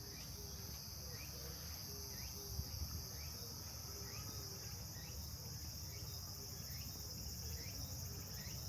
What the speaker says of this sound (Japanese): 静けさの中につくつく帽子の声だけがこだまする。